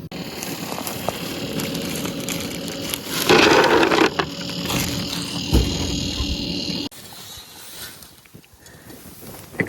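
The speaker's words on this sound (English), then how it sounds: "Excuse the wind, it's really windy out here today" Strong wind gusts outdoors on rural property, a steady broadband rush that swells loudly midway, then eases to a lower, rougher blowing with no talk.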